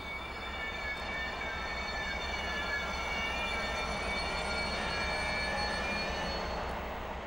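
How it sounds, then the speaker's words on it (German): A freight train headed by two class 217 diesel locomotives rumbles past as a steady low drone with a faint tonal whine above, fairly distant and unchanging in level, with no voices. "Vorher gesellt sich noch ein 2. Güterzug dazu. Wieder 2 217 an der Spitze."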